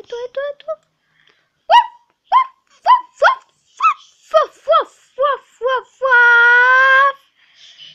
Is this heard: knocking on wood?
no